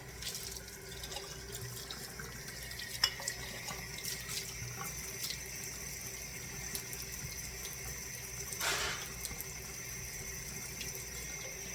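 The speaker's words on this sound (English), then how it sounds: "I'm going to rinse them and set them on this." Glass pint canning jars rinsed under a running kitchen tap, a steady stream of water splashing and trickling into the sink for several seconds, with a few sharper clinks and splash bursts along the way, close and continuous with no speech.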